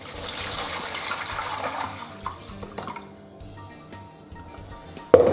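Two litres of water pour from a measuring vessel into a small lidded container for ham brine, giving a steady rushing splash that tapers off, heard close with no talk.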